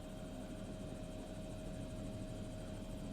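A helicopter drones steadily overhead, its rotor thrum and engine whine continuous and fairly distant, with no talking.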